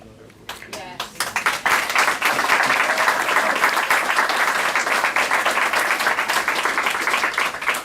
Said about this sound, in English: to thunderous applause.